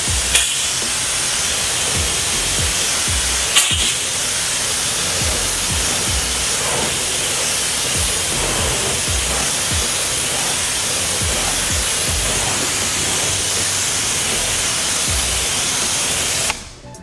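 Pressure washer sprays a Corvette Z06 Carbon 65 Edition with a loud, continuous hissing water spray that holds steady for the whole stretch before cutting off at the end.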